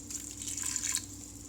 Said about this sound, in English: I'm gonna add a 1/2 cup of water.